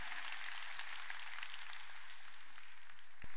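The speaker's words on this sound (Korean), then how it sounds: "박수로 하나님께 영광을 돌려야 되는 거야." A church congregation applauding in worship, a broad steady wash of clapping from many hands filling the room, moderately loud and continuous with no voices over it.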